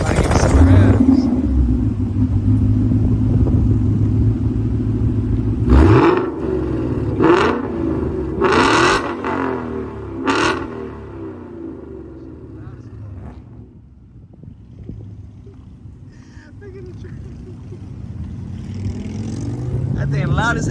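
A loud Ford Mustang GT 5.0 engine with an aftermarket loud exhaust rumbles and is revved in several sharp bursts, its exhaust roaring up and settling between blips, with people speaking nearby.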